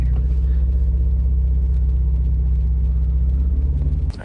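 A BMW M550i drives in snow with a loud, steady low engine rumble heard from inside the cabin, continuous throughout, then a slight drop in level near the end.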